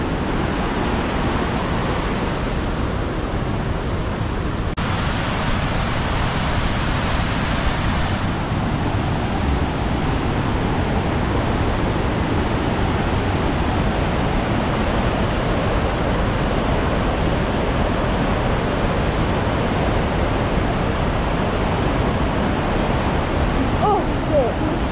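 Aysgarth Falls pours down in a constant heavy rush of water. The roar is loud and close with no pauses, and a faint voice comes in briefly near the end.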